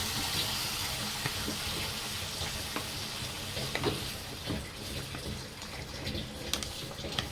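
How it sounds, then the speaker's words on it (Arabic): Hot water poured onto sautéed rice and freekeh in a hot pot, a steady broad hiss and rush of boiling liquid with faint scattered clicks, continuous and close throughout. "انزل عليه بالمية السخنة بتاعتي"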